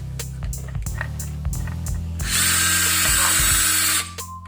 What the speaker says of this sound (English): drill a hole through the body here.